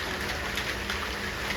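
Steady rain falls outside a home balcony, an even, continuous hiss of moderate loudness with no other sounds standing out.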